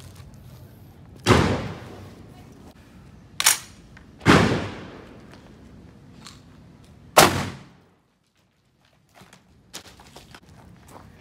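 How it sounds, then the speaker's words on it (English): Rifled 12 gauge slug shots fired at a target, with several sharp loud reports spaced a few seconds apart and short decays, followed by near silence. "We're gonna try to shoot it here this time with a slug."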